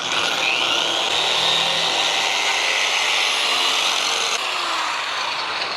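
An Eastwood Contour SCT power tool stripping crud off metal, a loud, steady, close abrasive whir grinding against the surface without a break.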